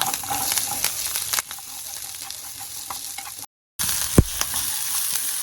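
Onions frying in a pan with split chickpeas, curry leaves and asafoetida for mango rice, a steady close sizzle with occasional stirring scrapes and a brief dropout.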